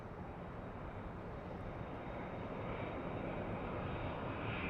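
A British Airways airliner passing near LAX gives a steady, distant broadband roar that holds evenly throughout, faint and with no voices.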